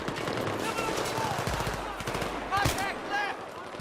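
Rapid bursts of gunfire crackle in quick volleys in the video game Battlefield 3, with a few sharper shots standing out, under steady background game noise.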